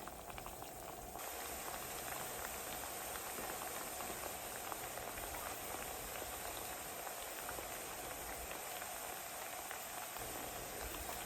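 Plantain slices fry fully submerged in oil in a skillet for a Caribbean meal, giving a dense, even bubbling crackle that stays constant and fairly soft from start to finish.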